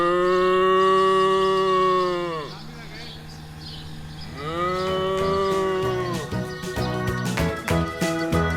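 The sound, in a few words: cows mooing on a farm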